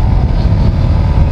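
A SYM VF3i 185cc underbone motorcycle on a road test gives a loud, steady engine drone mixed with rushing wind noise. It holds an even level throughout, with no talking.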